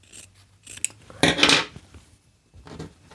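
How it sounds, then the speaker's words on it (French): Scissors snip through a piece of flowered bias tape in a few short cutting strokes, with one longer, louder crunching cut in the middle, close up and otherwise quiet. "donc je coupe un premier morceau"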